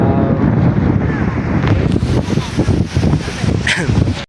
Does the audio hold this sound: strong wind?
yes